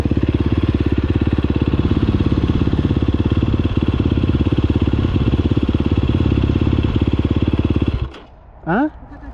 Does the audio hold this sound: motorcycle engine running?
yes